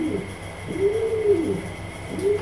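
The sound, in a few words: pigeon cooing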